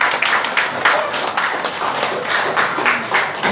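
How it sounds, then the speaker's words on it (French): Audience applause at a ceremony honoring youth ambassadors for digital education: dense, steady clapping from a sizable crowd that holds an even level throughout, with faint voices mixed in. "Est-ce qu'on peut applaudir, s'il vous plaît?"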